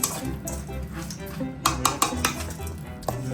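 A metal spoon mixes chatpata chakna snack in a bowl, close clinks and scrapes against the dish in an irregular rhythm with a few sharper knocks.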